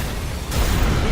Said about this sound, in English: Operate the cannon.